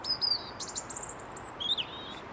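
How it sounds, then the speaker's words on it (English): Several birds outdoors trade short, high chirps and thin whistled tweets, moderately close against a soft background hiss. "Birds chirping to each other, absolutely."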